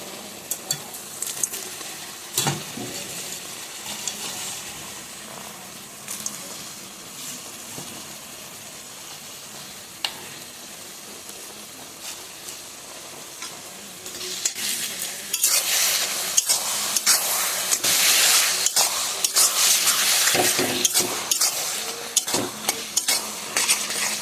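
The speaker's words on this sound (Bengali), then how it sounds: "এবার এর মধ্যে আমি মাছগুলো দিয়ে দেবো।" Small fish frying in a pan for a spicy sour-leaf curry, stirred with a utensil; steady sizzle with scraping and clinks of the spoon against the pan, growing louder and hotter midway through, with no talk.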